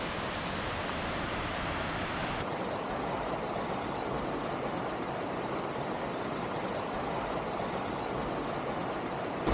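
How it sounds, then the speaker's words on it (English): A tiny trickling waterfall in Cloudland Canyon, Georgia, fed from high above along Sittons Gulch, producing a continuous, even hiss of falling water heard up close for the whole stretch, with no voices. "Perhaps the tiniest waterfall in the park, sourced from way above."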